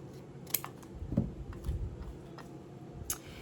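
Scissors snip through the edge of a starfish 3D wall-art beach craft piece, a few crisp cuts spaced out over a quiet room, close and clear with no talk.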